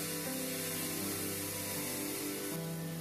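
Taro (kochu) pieces frying in a pan make a steady, loud sizzling hiss that continues unbroken throughout, with a faint underlying hum and no talk.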